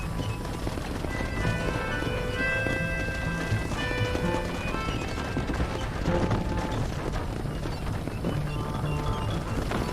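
Horse hooves in the Red Dead Redemption video game, a steady clip-clop of galloping hooves under a dense game soundscape, continuous and fairly loud, with a faint neigh.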